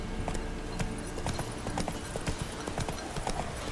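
Hooves of a horse in The Witcher 3 video game clip-clop in a quick, steady galloping rhythm, loud and close over a constant low background, with no talk over it.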